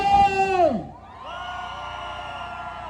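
A rally crowd at a Yangpyeong campaign event shouts a loud, rising collective cheer that sweeps up and then falls off, leaving a sustained lower roar of many voices.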